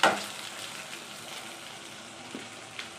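Freshly cooked rice fries in a pan with a low, steady sizzle, opened by a short loud burst as it hits the hot surface, followed by faint stirring scrapes.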